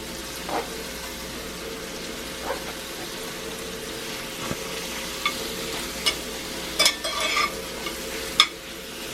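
Pastrami heats in a cast iron pan alongside mushrooms, giving a low steady sizzle broken by a few brief scrapes and clicks of stirring, close and moderately quiet with no talking.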